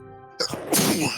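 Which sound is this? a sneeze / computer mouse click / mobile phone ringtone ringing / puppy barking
a sneeze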